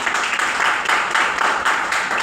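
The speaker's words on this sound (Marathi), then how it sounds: "सतीश इंगळे सरांसाठी जोरदार टाळ्या वाजवा." An audience at a motivational success event applauds, a dense, continuous wash of many hands clapping at moderate loudness with slight pulsing.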